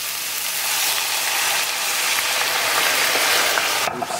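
Green onions sizzle steadily in a hot frying pan with paprika and garlic powder, a dense, even crackle that runs throughout and cuts off abruptly near the end.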